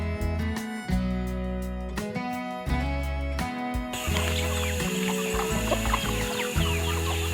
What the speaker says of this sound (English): At the free-range chicken farm, the chickens live freely, roaming and foraging by instinct.